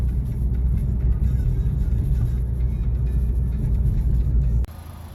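A 2017 Honda Civic Type R cruises in sport mode on snowy roads on snow tires, a steady deep cabin rumble of engine and road noise that drops abruptly near the end.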